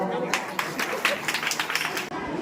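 An audience at a community event at the Mahalakshmi temple in Sangamner breaks into a short burst of dense clapping, heard close and mixed with a voice talking over it.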